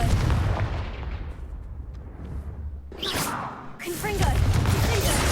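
Confringo blasting spell in Hogwarts Legacy: a couple of sharp whooshing bursts and impacts over rumbling combat noise, with loud crackling blasts near the middle and end, and a voice speaking underneath.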